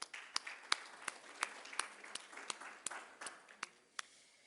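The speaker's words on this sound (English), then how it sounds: "Once again, a round of applause for His Excellency Khalid Rashid Said Al Shahi from Ras Al Khaimah." Sparse, scattered hand claps from a small audience at an evening business festival session, about a dozen distinct claps spaced irregularly, fairly faint against a quiet room.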